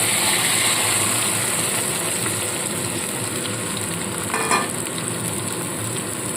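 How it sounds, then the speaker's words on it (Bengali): Boiled fish roe poured into hot mustard oil, giving a steady loud sizzle and frying hiss throughout with a brief clatter near the end, no talk. "তেলটাকে খুব ভালো মতো গরম করে নেব এইবার সেদ্ধ করে রাখা মাছের ডিমটা সম্পূর্ণটাই আমি এর মধ্যে ঢেলে দিচ্ছি"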